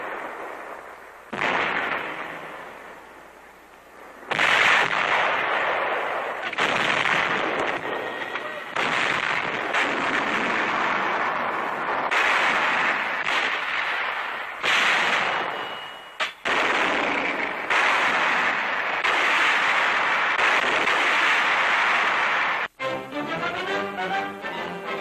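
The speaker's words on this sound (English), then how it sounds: "Powerful 105 and 155 millimeter howitzers blasting" 105 and 155 millimeter howitzers fire on Guadalcanal in wartime artillery action, a string of loud, heavy booming blasts that follow one another steadily and continuously.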